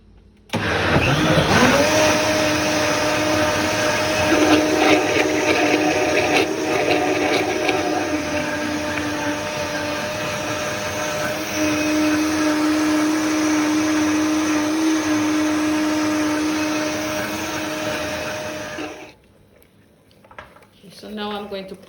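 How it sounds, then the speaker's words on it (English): A blender whirs loudly and steadily blending green bananas, its motor pitch shifting partway through, before switching off near the end. "Let's blend."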